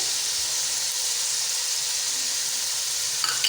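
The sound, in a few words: garlic and ginger paste added to sizzling pan for mutton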